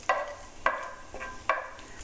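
Bacon fat sizzles in a tilted frying pan, flaring in three distinct bursts of crackle as the pan shifts, each fading back to a low simmer between them.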